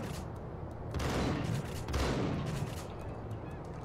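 Shotgun fire in the Max Payne video game: loud booming blasts roughly a second apart, each trailing off, over busy game noise with no talk.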